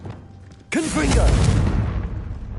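A Confringo fire-blast spell from Hogwarts Legacy erupts in a sudden loud boom followed by a rolling, crackling explosion that fades slowly, with a voice briefly sounding at the blast.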